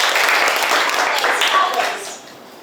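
Students clapping their hands in an English class, a dense burst of applause that holds steady and then fades away toward the end.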